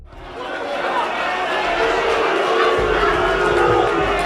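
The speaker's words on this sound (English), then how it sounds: "The crowd vehemently booed him." A wrestling crowd at a Preston City Wrestling show roars with sustained loud booing and jeering, a dense wall of voices that swells in the first half second and then holds steady throughout.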